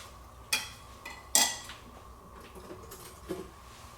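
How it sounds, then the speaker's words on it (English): A clean spoon stirring a herb salad dressing makes soft scraping and a couple of sharp clinks against the bowl, fairly quiet and close, with no voices. "stir up the dressing with a nice clean spoon"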